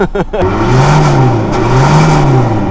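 An Audi A4 B5 engine revs loudly up and down in close, steady waves, with a brief voice at the very start.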